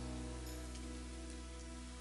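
Rainwater still drips from the trees in a forest after the rain, a dense, steady patter close by with a constant low hum underneath, around a small campfire.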